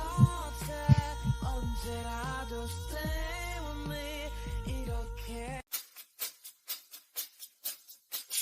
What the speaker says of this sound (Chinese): 心跳出卖了你